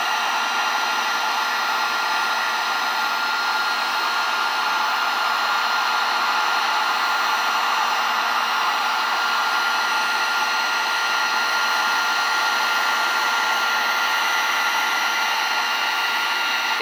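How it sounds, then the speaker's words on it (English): A heat gun blows hot air steadily onto a gold foil logo on glass, a continuous, loud, even whooshing roar with a steady motor tone and no pauses. "so now we're going to use a heat gun"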